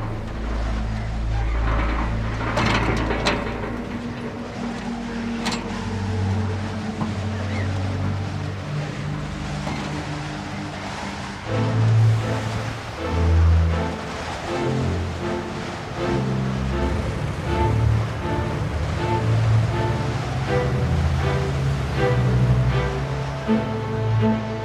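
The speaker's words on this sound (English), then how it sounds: "The 20-minute boat ride that takes them to the continent is a veritable ordeal for Stern" A twenty-minute boat crossing over the sea from Brittany toward the continent, with a cow aboard: a low, steady engine rumble and washing water run throughout, with tonal layers over the top and the loudness shifting in swells.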